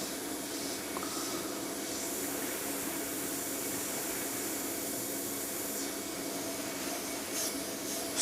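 Airbrush spraying thinned Crawford & Black acrylic ink, a steady, continuous hissing rush of air that holds at an even level for the whole stretch, fairly close and with no talking over it.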